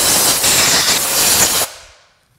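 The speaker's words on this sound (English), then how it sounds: "Blow some air around. Make sure this is all cleaned out." Compressed air blowing out the cylinder of a 700 Ski-Doo snowmobile engine, a loud close steady hiss that cuts off abruptly and then fades, with no talking.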